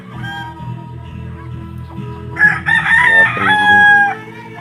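A rooster crows loudly and close by, a long drawn-out cock-a-doodle-doo rising over quieter clucking and farmyard background.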